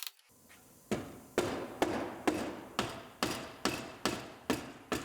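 Hammer blows on the floor panel of a wrecked Honda Civic Si, about ten sharp metallic strikes in a steady, even rhythm, close and clear with no talk.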